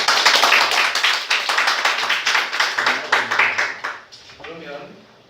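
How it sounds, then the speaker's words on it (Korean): Participants at a Korean social enterprise lecture on writing business plans clap together in encouragement, a close, lively round of dense clapping with audible individual claps that thins out and fades, and a voice begins to speak at the end. "저희 시작하기 전에 서로에게 격려와 박수를 한번 치고 넘어가도록 하겠습니다"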